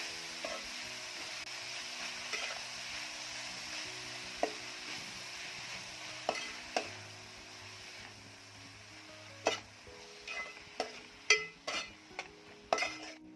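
Coarsely chopped fenugreek leaves sizzle softly in a pan, with utensil clinks and scrapes growing more frequent and sharper toward the end as the greens are stirred and mixed, nearby and with no talking.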